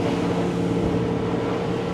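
A motorboat engine drones steadily at speed, cruising at about 50 km/h with power increasing, its constant low roar mixed with wind noise and water rush.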